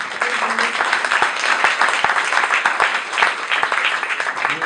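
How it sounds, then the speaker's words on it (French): An audience applauds Florence, a volunteer and former director of the Cabiria association, at a theatre event: dense, steady clapping from many hands filling the room, loud and continuous throughout. "Je voudrais qu'on applaudisse Florence."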